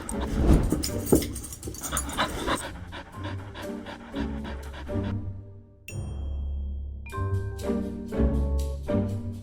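A dog pants rapidly and loudly close by, with a few soft whimpers and a bright chime-like ding partway through.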